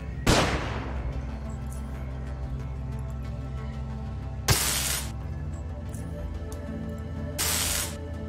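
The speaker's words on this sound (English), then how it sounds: "So let's flashbang these guys." A flashbang grenade goes off in the turn-based game UnderRail, a sharp loud burst of noise followed later by two more hissing broadband blasts, each roughly a second long, over a steady low game ambience.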